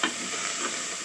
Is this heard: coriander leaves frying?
yes